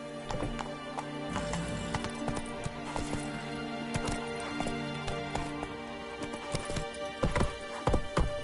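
Roach, a horse in the video game The Witcher 3, trotting in a steady clip-clop of hooves that stays fairly close and even throughout, with no talk over it.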